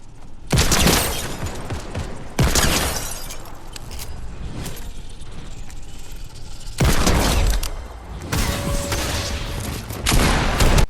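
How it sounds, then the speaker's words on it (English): A Desert Eagle pistol fires in a Fortnite duo match: heavy, loud single shots spaced a few seconds apart, each with a long booming tail over constant game noise. "I hit some lovely shots here with the Deagle"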